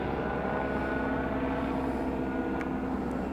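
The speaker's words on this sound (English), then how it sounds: "There's a sheriff helicopter." A steady, distant rotor and engine drone from a Sacramento sheriff helicopter passing overhead in Carmichael, California, constant and unbroken throughout.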